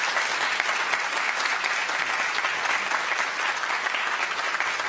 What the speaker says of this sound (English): Can I give a big round of applause for them?